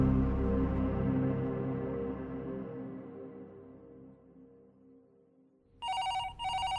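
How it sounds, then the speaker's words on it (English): A telephone bell rings in two close bursts near the end, loud and clear, after a long fading tone with no talk. "when the phone rang"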